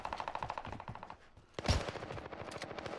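MP40 submachine gun fire in a video game: rapid bursts of shots rattle near and loud, broken by a sharp single crack midway, with no talk.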